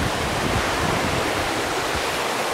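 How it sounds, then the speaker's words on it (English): A river rushes under a wooden bridge in the Catskills of New York, giving a loud, steady, broadband roar of flowing water that holds constant throughout with no voices. "Very nice river here crossing this wooden bridge."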